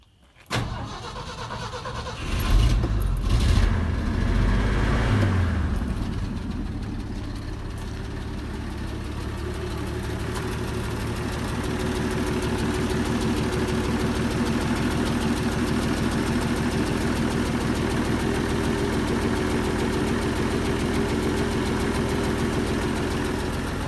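A pickup truck engine with a newly fitted carburetor cranks and catches, then settles into a steady, loud, continuous idle close by, with no talking.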